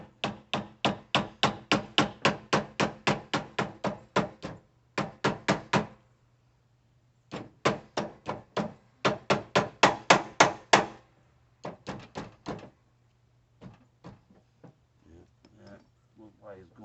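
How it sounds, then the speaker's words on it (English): A hammer strikes a replacement upper steering wheel bushing onto a Craftsman LT lawn mower in rapid bursts of sharp metallic blows, close and steady, with brief pauses between the runs of strikes. "Get the hammer, and then they persuade it on"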